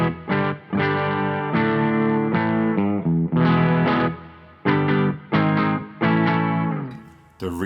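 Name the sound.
clean electric guitar tone, Rivolta Mondata bridge pickup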